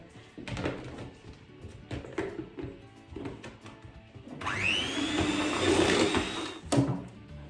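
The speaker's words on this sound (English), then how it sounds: "I'm gonna turn on this electric mixer again and mix these two things together" An electric mixer beats sugar into brownie batter. A high, steady motor whine starts partway through, near and loud, after some earlier clatter and handling noise.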